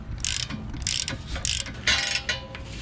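A ratchet wrench loosens a bolt on the control arm of a 2012 Chrysler 300, clicking in short rapid bursts with pauses between strokes, close and fairly clear.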